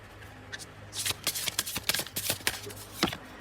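Tarot cards being shuffled by hand, a close, crisp run of riffling flicks and slaps that grows denser after a quiet start, with no talking.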